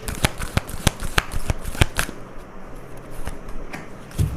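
Tarot cards being shuffled during a reading, a close run of rapid riffling flicks and slaps that settles into quieter handling, with no talk over it.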